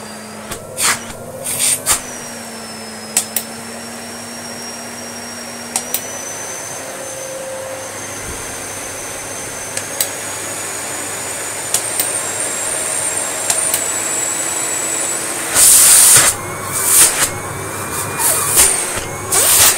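Miele S255i Electronic vacuum cleaner with an old-style motor running steadily and loud up close, a whining tone rising in pitch over time, with occasional clicks and a louder surge of airflow near the end.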